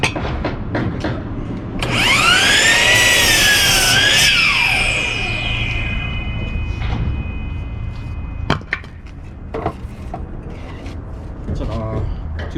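A compound miter saw spins up with a loud whine, slices through a wood board for a couple of seconds, then winds down in a long falling tone. Thumps and knocks follow, and someone talks nearby.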